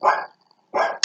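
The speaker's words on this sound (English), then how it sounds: "That's my dog." A pet dog barks twice indoors, two loud close woofs separated by a short silence, with the start of a third cut off at the end.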